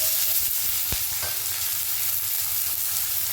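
Chopped onion sizzles in hot oil with a bay leaf and dried red chilies while being stirred, a steady close hiss broken by a few scraping knocks. No one speaks.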